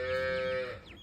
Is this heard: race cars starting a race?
no